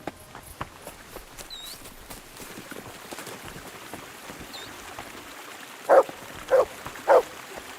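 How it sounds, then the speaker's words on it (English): Three sharp barks from the dog Mutt in Kingdom Come: Deliverance 2, evenly spaced near the end, standing out clearly over a quiet outdoor ambience of faint footsteps and a trickling stream. "Why are you barking, Mutt?"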